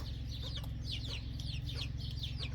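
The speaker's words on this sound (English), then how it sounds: "He's a Bantam chicken." A Bantam chicken clucks indoors in a house, with repeated soft, close clucks in a regular rhythm over a steady low hum.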